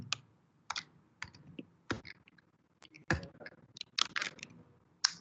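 Keystrokes on a computer keyboard clatter in irregular bursts of sharp, close clicks with short pauses between them, with no voices.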